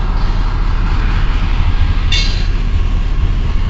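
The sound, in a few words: CN mixed freight train passing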